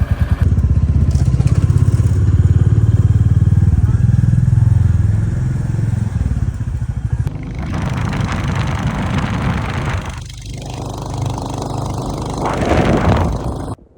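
A motorcycle engine idles to warm up on a cold morning in Kaza, Spiti, running as a steady loud chugging throughout, with a brief clattering change partway through.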